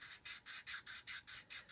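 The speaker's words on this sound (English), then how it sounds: "you can just sand and get a nice round surface in there" Rolled sandpaper rubbing inside a plastic part of a 1/72 Airfix Vulcan model kit, seven or eight even back-and-forth rasping strokes in a steady rhythm, close and fairly soft, with no talk.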